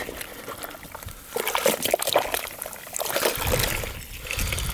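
A car wash mitt is rinsed in a bucket of soapy water, giving loud, irregular sloshing and splashing in bursts, with a brief lull in the middle before the swishing picks up again.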